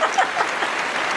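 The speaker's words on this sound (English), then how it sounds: "I got Rob to put the applause on for you" Applause sound effect played in during a singing lesson, a steady wash of crowd clapping throughout with no voices on top.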